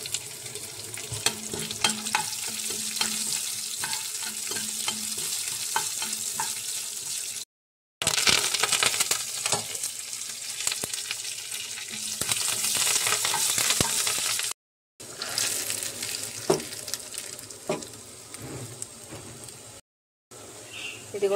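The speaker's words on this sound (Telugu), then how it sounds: "ఇప్పుడైతే పోపులు అయితే వేసుకుంటున్నాను" Tempering spices and dried red chillies fry in hot oil in a pan for a peanut chutney, giving a bright, continuous crackling sizzle with occasional stirring clinks and brief breaks in between.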